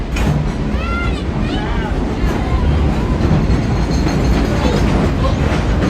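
Dollywood's steam train, engine 192, rolls along the tracks with a steady low rumble and clatter from nearby, squealing wheel tones rising and falling through the first few seconds.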